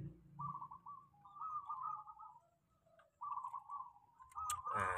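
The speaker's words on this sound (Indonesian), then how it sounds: "Itu perkututnya berarti birahi." Perkutut zebra dove in breeding mood gives repeated trilling coos in short bursts, fairly close and clear, with a sharp rattling noise near the end.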